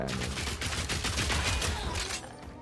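In Path of Exile 2, fragmentation ammo rounds fire in a rapid, dense volley of sharp cracks, loud and continuous, with a bit of speech underneath.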